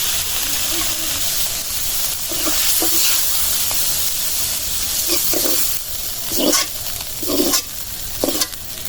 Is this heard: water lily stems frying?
yes